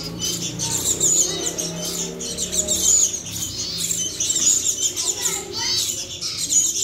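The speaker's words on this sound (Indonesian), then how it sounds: "Sri Gunting Abu nih guys." Ashy drongo chicks chirping in a nest, with high thin repeated cheeps coming in clusters near the microphone while a person talks nearby.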